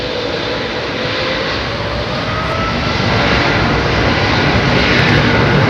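An airliner's jet engines at London Heathrow Airport give a loud, broad roar that holds steady and grows a little louder partway through, with no talk.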